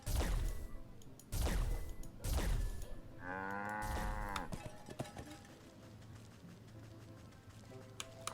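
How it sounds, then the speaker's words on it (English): In the video game Wytchwood, a cow moos once, a clear drawn-out lowing with rich harmonics lasting about a second, surrounded by heavy thumping whacks and game effects before and after. "Hey, a cow."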